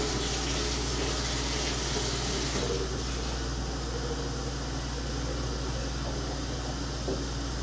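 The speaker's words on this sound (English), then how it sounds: "Go ahead and pour a little bit of hot water in here." Hot water is poured into a vessel for brewing a Coopers Sparkling Ale beer kit, making a steady, continuous gushing splash that stays loud and even throughout.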